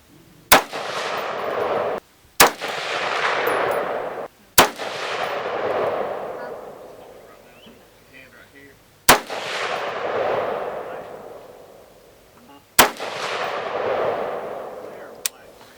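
A rifle fitted with a Vortex Sparc II red dot sight fires five sharp shots at a 50-yard range, spaced unevenly over about fifteen seconds, each loud crack trailing into a long rolling echo.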